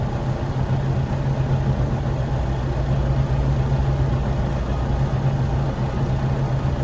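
A truck engine idles steadily outside an open window, a constant low rumble at moderate distance that carries on unchanged throughout with no voices.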